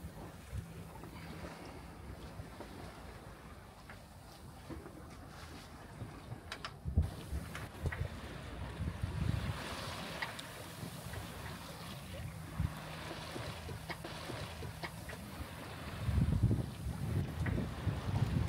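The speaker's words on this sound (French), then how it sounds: "Le vent est monté un petit peu, 11 nœuds de vent." Steady wind rushes over a sailboat making about 7 knots in an 11-knot breeze on a sunny day, with low water and hull noise beneath it and gusts that buffet the microphone and swell louder toward the end.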